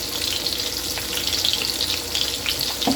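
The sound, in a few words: water running from a tap to rinse something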